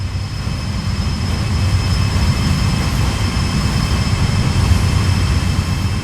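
A GE AC4400CW heavy freight diesel locomotive rumbles steadily on the Sand Patch Grade in Train Sim World 2, a deep continuous engine drone with a faint high whine over it and no talking.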